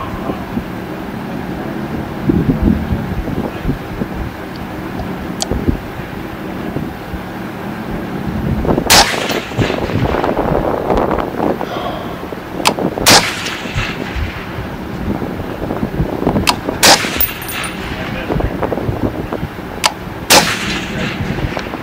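LMT MWS rifle firing at steel targets at long range, outdoors under steady wind noise, with several sharp, loud reports spaced a few seconds apart through the second half.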